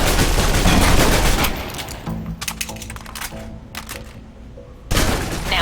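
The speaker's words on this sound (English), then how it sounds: "Now, let's move on to the submachine gun. Now let's empty the clip." A submachine gun in the video game Alpha Protocol fires its full magazine in a rapid rattling burst, then the shots break into scattered clicks and reports before a final loud crack.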